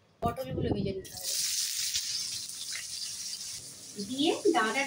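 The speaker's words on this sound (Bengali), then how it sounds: "পটলগুলো ভেজে নিতে হবে," Pointed gourd (potol) fries in a pan of oil with coriander, cumin, mustard, fennel, tomato, ginger and green chilli, giving a steady, close sizzling hiss. A voice talks briefly before the sizzle starts and again near the end.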